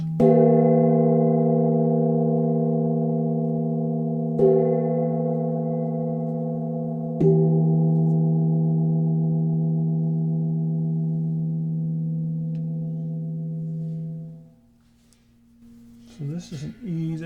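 A bossed nipple gong about 18 inches across, tuned to E, is struck away from its centre boss three times, producing layered sustained tones that ring and slowly decay over about fourteen seconds, followed by a brief moment of speech.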